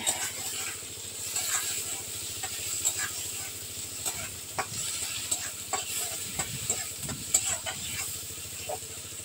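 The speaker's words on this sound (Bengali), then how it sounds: "তো দেখো আমি পেঁয়াজগুলি আর কাঁচা লঙ্কা একটু ভেজে নিব।" Chopped onions and green chilies fry in hot oil in a pan, giving a steady close sizzle broken by scraping and clacking stirring strokes; no one speaks.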